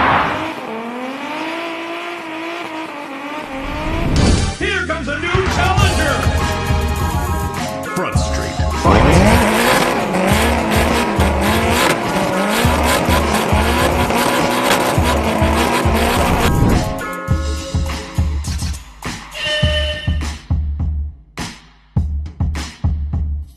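Drift cars at a competitive drift event scream past with loud tire squeal and skidding, engines revving hard; a dense, continuous roar that breaks into choppier bursts near the end, with an announcer's voice faintly underneath.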